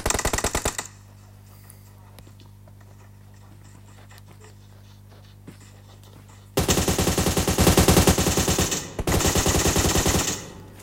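AUG rifle fire in a competitive shooter video game: a short automatic burst at the start, a quiet pause with faint ambient hum, then long, loud, rapid sustained bursts with a brief break between them.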